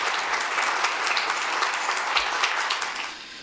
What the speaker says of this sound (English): So let's give a big round of applause to the Toledo Library.